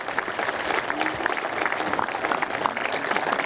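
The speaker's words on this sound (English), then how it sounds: "let's give him a round of applause" Guests at a fire and lifeguard appreciation dinner give a round of applause, a dense, lively burst of many hands clapping in a banquet room, steady and fairly close throughout.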